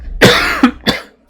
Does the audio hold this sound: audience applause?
no